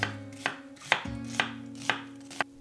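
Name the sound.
knife thinly slicing onion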